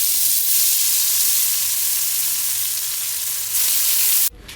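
Koi and shing fish frying in hot mustard oil: a loud, continuous bright sizzle that holds steady, then cuts off abruptly near the end, with no talking.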